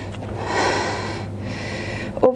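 A long, forceful breath pushed out through the nose and mouth during an all-levels upper-body strengthening workout, two airy swells of exhalation close up, ending with a short sharp sniff.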